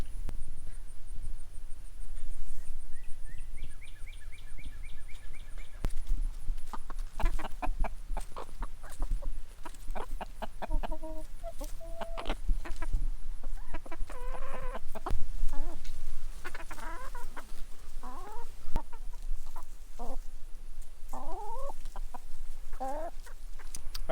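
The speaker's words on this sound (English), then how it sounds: "So the new rooster is a blue-laced red Wyandotte rooster," Blue-laced red Wyandotte rooster and hens on a farm clucking and chattering, scattered calls of varying pitch over a quiet outdoor background, with some knocks and rustling.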